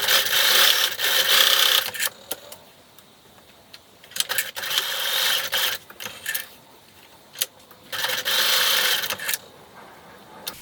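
A home sewing machine stitches fabric slipper pieces in three separate bursts of whirring, with quiet pauses between them and no talking.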